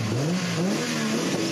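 A car engine revving in the video game GTA during a parkour race, a continuous rising and falling engine roar with a gritty, loud, steady texture.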